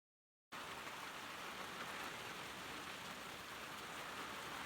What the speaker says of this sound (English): And as quick as the rain started, it stopped.